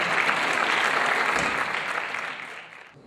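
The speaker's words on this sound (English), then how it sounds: "give a big applause" Applause at a Nordic bodybuilding championship, a dense wash of clapping from a large audience that holds steady and then tapers away over the last second, with no speech over it.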